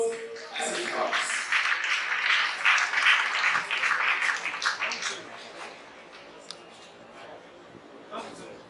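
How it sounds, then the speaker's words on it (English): Audience applause at a tennis award ceremony for the Lagos Open 2019 women's singles, a dense burst of clapping that swells over the first five seconds and then fades to scattered claps near the end. "A round of applause as he comes"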